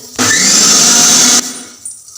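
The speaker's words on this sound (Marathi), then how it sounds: "तर आता मी हे सर्व थोडंसं पाणी घालून मिक्सरमध्ये बारीक करून घेते." A mixer grinder whirs loudly for about a second, grinding masala with a little water, a close, harsh motor roar that starts and stops abruptly and then trails off.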